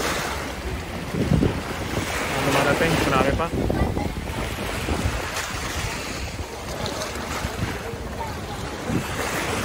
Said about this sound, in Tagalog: Tingnan, masalubong yung mga alon